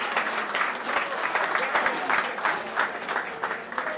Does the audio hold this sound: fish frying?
no